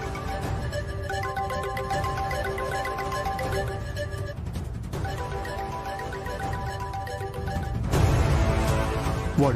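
A mobile phone rings in a TV drama scene, its electronic ringtone melody repeating steadily over a continuous bed of sound that grows louder and busier in the final seconds.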